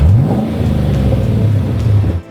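A restored 1992 Land Rover Defender 110 with a 6.2 litre LS3 V8, six-speed automatic and stainless sport exhaust revs loudly and close, its deep engine note rising and holding steady before dropping away at the end.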